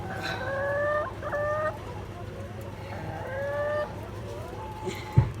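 A sick farm chicken whose legs have given way from calcium deficiency gives several drawn-out clucking calls in short bursts, close by over a steady low rural background hum, ending with a brief thump.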